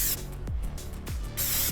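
Flat deep forest green spray paint on an e-bike, several short hissing bursts from the aerosol can, close and loud, separated by brief pauses with rattly gaps between sprays.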